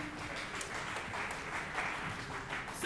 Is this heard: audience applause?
yes